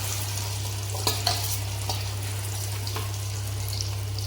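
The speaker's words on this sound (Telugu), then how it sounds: "దాన్ని అయితే దీంట్లో వేసి బాగా ఫ్రై చేసుకోవాలి ఈ ప్రాన్స్ పీసెస్ని కూడా." Marinated prawn pieces fry in hot oil for a mixed biryani, a steady crackling sizzle over a low hum, with a few scraping stir sounds.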